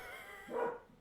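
A single short dog bark, somewhat muffled as if heard from another room, standing alone against quiet background hiss.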